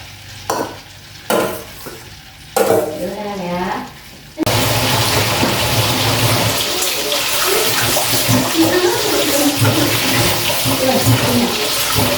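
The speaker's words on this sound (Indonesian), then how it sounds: "Sekarang saya mau mencuci telanannya" Tap water runs steadily and loudly while a chopping board is washed, following a few sharp kitchen knocks and a short burst of sizzling at the start.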